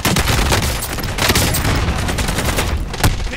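Loud, dense gunfire and explosions in a Call of Duty match: a continuous barrage of rapid shots with a sharp blast near the end, close and overpowering.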